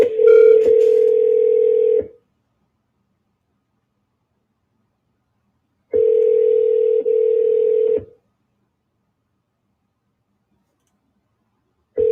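A telephone ringback tone plays through a line while a seller is being called back, with two-second bursts separated by about four seconds of silence and a third ring just starting.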